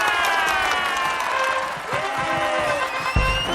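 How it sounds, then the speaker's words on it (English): A large crowd cheers and applauds loudly in a continuous roar of clapping and shouting, with a sharp thump near the end. "And the crowd goes wild!"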